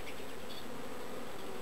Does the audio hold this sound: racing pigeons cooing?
no